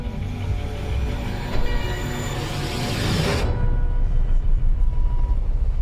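A train rumbles past close by with broadband roar and clatter, then the hiss drops away leaving a steady low rumble.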